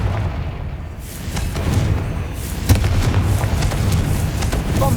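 A Confringo fire-blast spell in Hogwarts Legacy bursts with a loud boom and crackling impacts, ringing on amid a dense, rumbling game soundscape.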